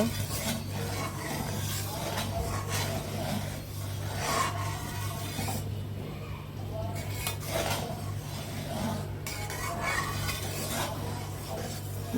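Red lentil dal being stirred and mashed in a pot, a steady scraping, rubbing rasp of utensil against metal with soft clinks, continuous and close, over a constant low hum.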